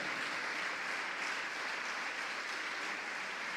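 A church congregation applauds during a sermon, a soft, steady wash of many hands clapping that sounds distant and fairly quiet, with no talk over it.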